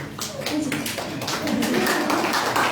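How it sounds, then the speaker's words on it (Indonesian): A church congregation at an Easter service claps loudly, a steady wash of applause with some voices underneath. "Kita beri tepuk tangan yang keras untuk Tuhan Yesus kita."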